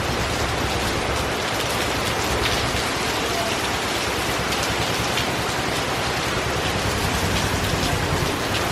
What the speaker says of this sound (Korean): 동시에 비 오는 거 보세요. 와. 진짜 와옵니다. 진짜 많이 와.